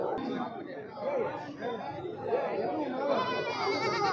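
Goats at a livestock market, kids among them, bleat several times through a dense crowd of people talking, the animal calls mid-distance and partly buried under the chatter.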